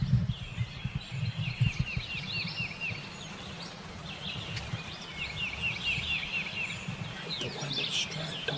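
Two wild turkeys gobble repeatedly in rolling bursts from a short distance, carrying over a steady outdoor backdrop of wind and chirping birds during a hunt.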